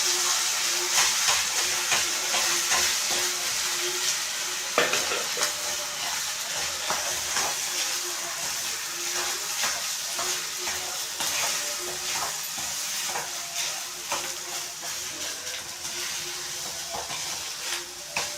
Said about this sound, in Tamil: அதையும் போட்டுட்டு இது மாதிரி நல்லா கிண்டிக்கணும்